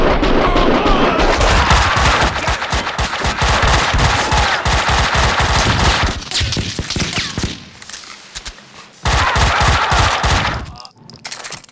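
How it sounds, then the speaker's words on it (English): Dense automatic gunfire from the video game Max Payne 2 rattles loudly in rapid continuous bursts, thins out briefly around the middle, then resumes in another heavy volley before tailing off. "Someone must have heard the gunfire."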